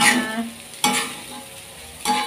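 Carrot fried rice sizzles in a pan while a spatula scrapes and stirs it in three distinct strokes, close and loud over a steady frying hiss.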